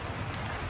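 Steady rain falls in a village in Kashmir's Neelum Valley, a dense, even hiss of drops close by with no gaps, heard alone throughout the short moment.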